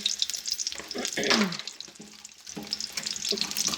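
Finely chopped onion fries in oil with star anise, cloves, cinnamon and bay leaf, a close, uneven sizzle with bursts of hissing and occasional stirring, fairly quiet overall.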